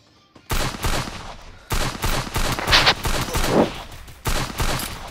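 Gunfire in the Free Fire mobile battle game, rapid automatic bursts and volleys of shots in several clusters, loud and close with no talk over them.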